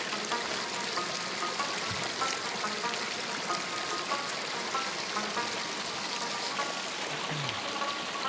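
A stream rushes through a mountain forest, a steady broadband wash of flowing water close by and continuous, with no voices heard over it.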